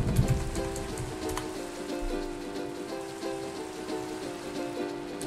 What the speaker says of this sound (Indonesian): Gak enak nih hujan, guys.